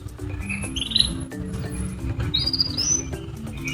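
A white-rumped shama (murai batu) kept as a cage bird gives a few short, bright chirps and whistled notes, close by, over a busy background of low hums and clatter with no talking.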